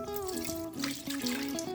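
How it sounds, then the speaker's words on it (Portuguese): Kemei KM-700D clipper blades are rinsed under a running tap, a close, continuous splash of water over faint tonal background sound. "Agora é só levar na água corrente embaixo de uma torneira e tirar o resíduo de sabão."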